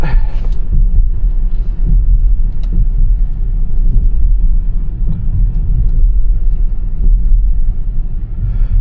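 A Tesla Model Y Dual Motor drives toward an off-road course, producing a loud, steady low road rumble and cabin drone with tyre and suspension thumps, with a voice briefly heard over it.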